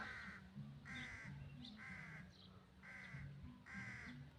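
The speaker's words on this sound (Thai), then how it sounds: "มาครับอีกา" A crow gives about five loud, harsh caws at a steady pace, close by, with faint background noise and no talking.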